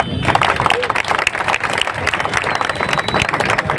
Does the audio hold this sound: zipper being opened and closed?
no